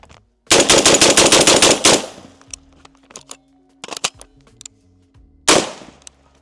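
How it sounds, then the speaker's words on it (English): A Genesis Gen-12 mag-fed shotgun fires a fast string of about ten loud, close blasts at an outdoor range. A few scattered clanks and a final single shot follow the burst. "because it can shoot as fast as you can and has minimal recoil"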